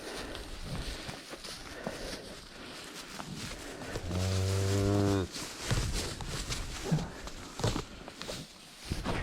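A cow on a farm moos once, a deep, loud, sustained low call about a second long, set among rustling, footsteps and general outdoor noise.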